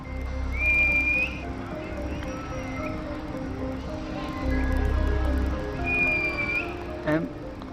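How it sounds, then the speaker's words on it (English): Gang members whistle at each other outdoors, several sharp rising whistles sounding a few times at a distance over a low steady rumble and background noise. "they're whistling at each other and shouting at each other"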